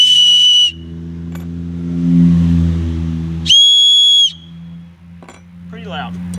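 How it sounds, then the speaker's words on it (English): A homemade whistle cut from thick aluminum gives two loud, shrill blasts, one at the start and another near the middle, over a steady engine-like rumble, with some rustling handling noise near the end. "you can make these out of aluminum can. I made this out of some thicker material, and they're pretty loud."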